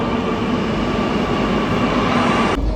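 Inside Ernakulam South metro station, a metro train rumbles and roars steadily and loudly, with a sudden change in tone near the end.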